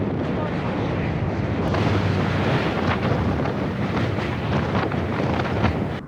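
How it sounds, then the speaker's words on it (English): Strong gusting wind roars steadily across Washoe Valley, a loud continuous buffeting rush over the microphone with no pauses, heard while riding a heavy 100-pound bike into 40-mile-an-hour headwinds. "I think the wind's dying down a little bit."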